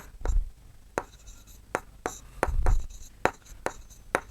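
A pencil drawing straight lines on paper to join the points of a geometry triangle, heard as a series of short, crisp scratchy strokes with small taps between them, close and fairly quiet, no talking.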